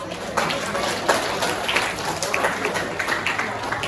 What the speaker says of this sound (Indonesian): sekali lagi tepuk tangan untuk kita semua